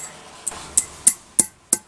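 New front brake pads on a 2015 GMC Yukon XL being snapped and tapped into the caliper bracket, giving five sharp metallic clicks spaced roughly a third of a second apart, close up and alone.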